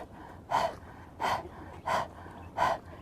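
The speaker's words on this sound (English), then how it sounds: "this is actually long, deep breathing sped up" A rapid breathing exercise, long deep breaths sped up: four sharp, forceful breaths at an even, quick rhythm, close to the microphone, with no talking.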